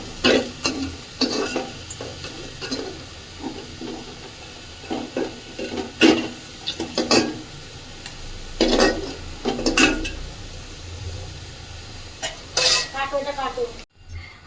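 Fried potatoes are scooped out of a pan of hot oil on a gas stove turned low: repeated scraping and clinking of a spatula against the pan over a faint, steady sizzle, ending in a brief silence.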